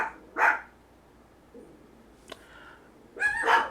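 Dogs bark outdoors in a quiet setting, two loud bursts of barking near the start and a cluster at the end, separated by a low near-silent stretch with a single faint click.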